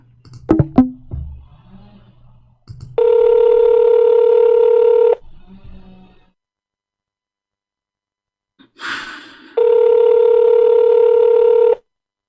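A phone call being redialed: two sustained electronic telephone tones, each lasting about two seconds with a quiet gap between them, preceded by brief sighing and breathy sounds.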